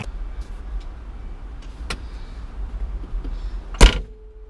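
Getting into a Porsche 912: soft rustling and shuffling inside the car, then one solid, loud door thunk near the end, followed by quiet.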